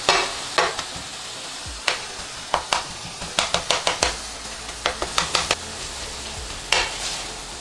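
Beef and onions seasoned and chopped on a hot griddle: a steady sizzle under a string of sharp metallic spatula strikes, some single, some in quick bursts of four or five, close and loud.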